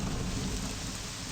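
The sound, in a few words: rain and thunder in the video game Morrowind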